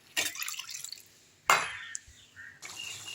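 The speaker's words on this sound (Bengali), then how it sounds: "এর মধ্যে আরেকটু জল দেব।" Water poured into a pot of spiced cabbage curry with potatoes, arriving in a couple of splashy bursts with short pauses between, close and moderately loud.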